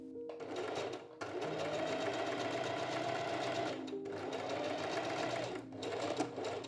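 A sewing machine stitches a sleeve placket, running in two long steady bursts of rapid needle clatter separated by a brief pause, close and prominent.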